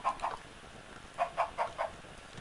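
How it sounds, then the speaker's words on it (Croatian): Chickens penned in a Minecraft survival game let out a few short, soft clucks, one pair near the start and a quick run of four more later, quiet over a low background. "Evo ga i kokoš su u toru."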